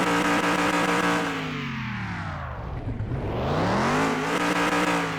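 A 1968 Dodge Charger R/T engine in a video game revs up, drops back and climbs again, with a loud, fairly high-pitched roar heard close up.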